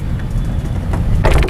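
The trunk of a Mazda RX8 shuts with a short mechanical creak, then one firm thump near the end. It sounds close against low background rumble, with no talking.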